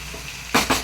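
Paruppu keerai greens sauté in hot oil, a low sizzle cut by two quick, close scraping stirs of a spoon in the pan.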